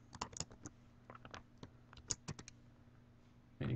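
Typing on a computer keyboard: scattered bursts of sharp, close key clicks in an irregular rhythm, ending with a louder cluster of presses.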